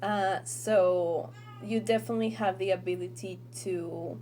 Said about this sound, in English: I'm sorry if you hear like meowing, that's one of my cats.